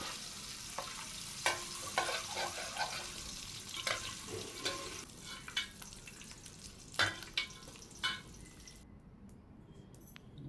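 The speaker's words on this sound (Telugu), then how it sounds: "దాంట్లోకి ఇంకొద్దిగా నూనె వేసుకొని వడియాలు వేయించేసుకోవాలి" Minapa vadiyalu (urad dal fritters) fry in oil in a wide pan, a faint steady sizzle broken by scattered crackles, pops and stirring clinks over about ten seconds.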